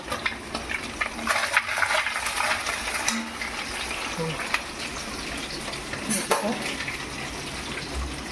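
Fish fries in hot oil with a continuous broad crackling sizzle, steady and close throughout, with occasional small clinks and stirring sounds from the pan.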